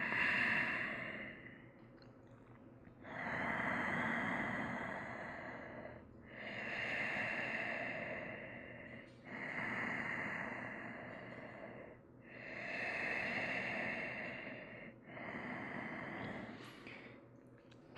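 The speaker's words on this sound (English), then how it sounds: "Focusing on that gentle constriction in the back of your throat that helps to create that audible sound of your breath, your ujjayi breath." Ujjayi breathing through the nose during a yoga class: slow, audible, throaty breaths rise and fall in about six long even cycles, close and alone with no talking.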